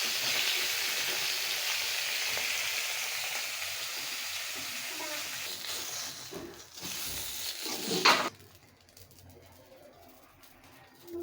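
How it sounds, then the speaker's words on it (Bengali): Kalidas fish frying in oil for a potato and tomato curry, a steady close sizzle and crackle that cuts off abruptly after about eight seconds, leaving a much quieter room. "আমার মাছগুলো এখানে ভাজা হয়ে গেছে"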